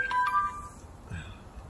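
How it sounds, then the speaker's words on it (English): Short electronic chime tones from a mobile phone notification ring out briefly at the start, fairly quiet, followed by faint low rustling and room noise with no speech. "Bloody notifications."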